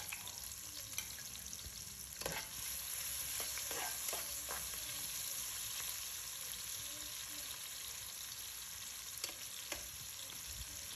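Red onions fry in hot oil in a pot and are stirred, giving a quiet continuous sizzle with occasional scraping knocks. The sound is low in level and close.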